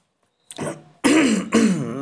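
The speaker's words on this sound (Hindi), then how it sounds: "खांसी हो गई, एक मिनट।" Silence, then a short throat-clearing cough followed by two more harsh coughs in quick succession, close and loud.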